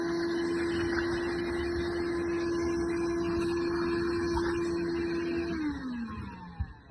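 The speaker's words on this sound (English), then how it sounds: "it's going to hoover out the channel." A vacuum cleaner hoovers out the glass channel of a Morso Squirrel wood stove: a loud, steady whine with a constant motor tone for over five seconds, then the pitch sinks as the motor winds down, ending with a brief clunk.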